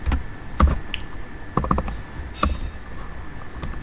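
Fingers type C code on a computer keyboard, producing irregular clusters of soft key clicks with short pauses between them, fairly quiet and close.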